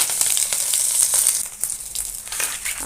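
Green chillies and five-spice seeds dropped into very hot oil in a wok, giving a loud, close, crackling sizzle with a few scraping stirs and no voices.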